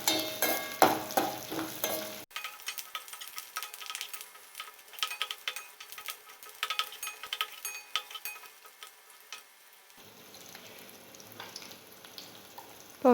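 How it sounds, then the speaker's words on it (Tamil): Garlic and onion sauté in a pan for a ridge gourd and toor dal kootu. A faint sizzle runs under intermittent scraping and stirring clicks from a spoon against the pan. "இப்போ வெங்காயம் பூண்டெல்லாம் நல்லா வதங்கிடுச்சு."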